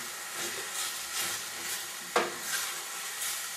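Pre-cooked rice is stirred into sizzling hamburger meat, a soft continuous sizzle with gentle rhythmic scraping and one sharper clink of the utensil against the pan.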